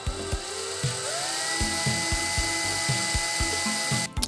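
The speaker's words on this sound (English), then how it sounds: "I'm gonna drill 4 holes here and just put screws from the top" A power drill bores holes into a homemade case for a 2001 retro Mini-ITX computer, giving a steady whine with a run of short, regular ratcheting clicks and a brief clatter near the end, with no talking.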